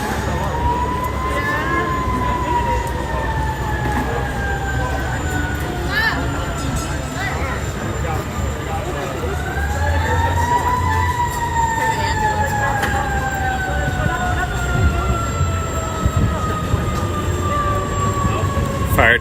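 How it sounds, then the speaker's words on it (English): A fire truck siren wails loudly in repeated rising and falling sweeps as the truck passes through a street after an outdoor ceremony, with steady traffic rumble beneath. "Fire truck coming through."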